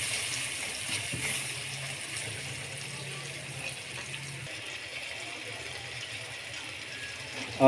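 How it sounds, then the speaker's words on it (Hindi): Half a cup of water goes into sizzling chana dal masala with tomatoes in a pan, making a steady rushing, hissing wash of liquid and frying that holds evenly throughout. "आधा कप पानी डालेंगे।"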